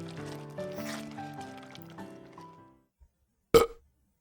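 Music plays softly and fades out, then after a short pause comes a single loud, abrupt belch.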